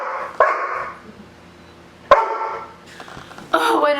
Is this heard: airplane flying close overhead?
no